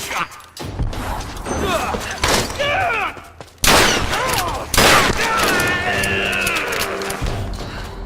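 Rapid gunfire from the 2013 Tomb Raider video game, bursts of shots and sharp impacts layered with game effects and character voices, loud and dense throughout.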